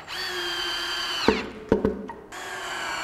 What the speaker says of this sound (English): And I'm just using those same pocket hole screws.